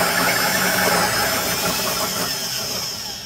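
Drill running as it cuts a tenon on the end of a log for a headboard, a sustained loud motor whine with a gritty cutting texture that eases slightly toward the end.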